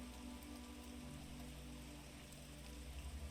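Steady rain falls continuously on a surface, a dense even patter with a low rumble beneath, moderately loud and with no voices.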